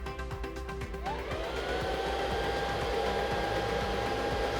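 A floor scrubber's vacuum motor runs steadily and loudly close by, a continuous mechanical whir that rises slightly as it spins up, with no voices over it.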